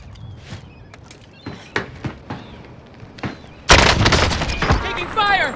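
Gunfire in a first-person shooter match: scattered single shots ring out first, then a loud sustained burst of automatic fire breaks out near the end, with brief voice chatter mixed in.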